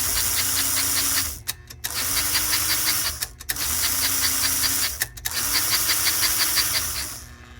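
A restored 1950 302 engine runs steadily up close with its idler gear turning. The even mechanical hum and whirring continue through three brief drops in level.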